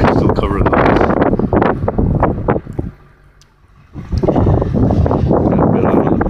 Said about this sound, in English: the wind's really picked up, so it's 45 out